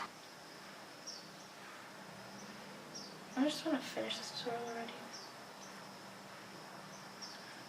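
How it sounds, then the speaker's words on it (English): Birds chirping outside a house window, faint repeated high chirps spread across the clip, while someone speaks over them in a quiet room. "I really like the sound of birds and all that, like outside your window"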